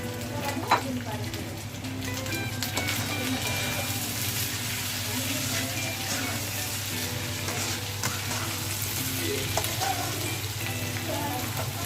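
Green chilies, fried earlier, sizzle in a frying pan of sambal peda as they are stirred back in, a steady close crackle and hiss that lasts throughout with light scraping.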